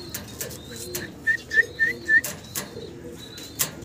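Soft cooing of fancy pigeons in a quiet room, with a few short whistle-like calls repeating and some faint clicks and shuffles.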